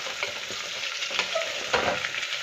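Potatoes fry in a pan while being stirred, a continuous close sizzle with soft scraping and clinking from the spatula at irregular moments.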